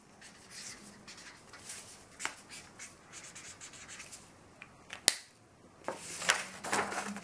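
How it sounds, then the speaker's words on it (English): Pen writing a name on a folded paper origami name stand, faint scratchy strokes in quick bursts, with one sharp tap midway and a denser scribble toward the end, no speech. "And then you can write your name here, like I will write here,"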